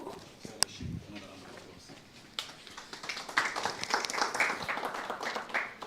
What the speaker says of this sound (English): Another round of applause, and thank you very much to fellowship.